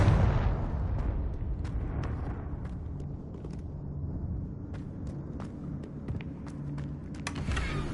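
Spell explosions from Bombarda and Confringo in the game Hogwarts Legacy, a loud deep boom that decays into a rumbling wash, with scattered sharp crackles and pops following.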